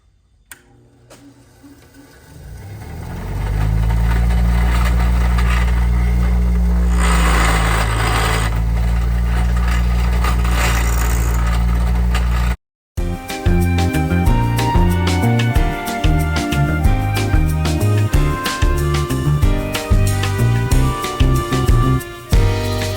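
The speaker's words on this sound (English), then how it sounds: "So let's get to the grinder and get to work." An angle grinder works a rusty railroad spike for a push dagger, a loud steady grinding whine running about nine seconds. After a brief cut, a different rhythmic, tonal passage follows.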